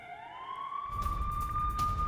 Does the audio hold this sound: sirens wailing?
yes